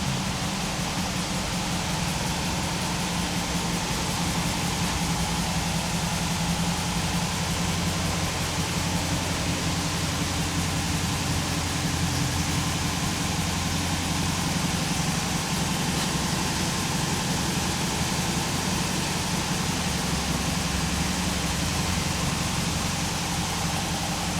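Car engine idling steadily right after a cold start, a continuous low rumble with a constant hum that holds evenly and loud throughout, with no talk.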